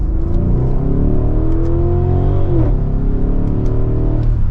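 An Audi SQ8 V8 engine in dynamic mode accelerates hard and loud, its deep roar climbing in pitch through a gear, dipping briefly at a shift, then pulling again.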